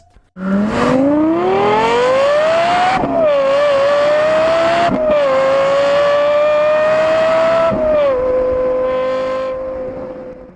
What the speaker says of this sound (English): the most beautiful sound would have to go to the Lexus LFA. From the naturally aspirated V10